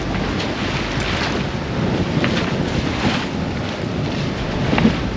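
Strong storm wind blasts across a sailboat out at sea, a loud steady roar of gusts and microphone buffeting over the wash of waves, with no voices.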